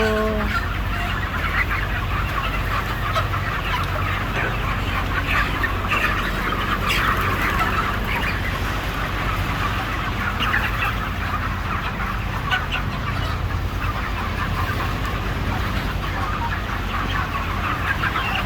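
Broiler chickens cluck and call steadily on a poultry farm, a busy overlapping chorus of fowl sounds heard close and constant, with no talking.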